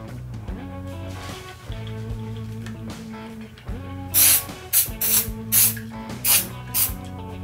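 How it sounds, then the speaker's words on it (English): Shooter's Choice Quick Scrub cleaner sprayed onto over-under shotgun choke tubes, several short hissing bursts in the second half over a steady background of music. "we're going to take some of the Shooter's Choice Quick Scrub to remove any remaining grime or"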